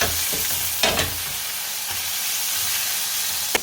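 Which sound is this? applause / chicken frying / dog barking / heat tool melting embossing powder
chicken frying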